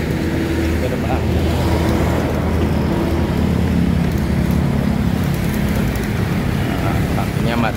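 Dense roadside traffic on Jalan Raya Muhtar in Sawangan, Depok, a steady loud rumble of engines passing close by with no break.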